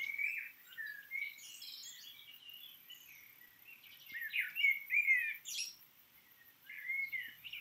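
Young birds chirping, tweeting and squawking in a lively, overlapping chorus, with bursts of calls swelling and fading in clusters, fairly near with no voices.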